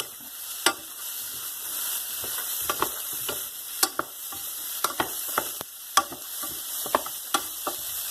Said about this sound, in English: Now I'll mix it with the butter.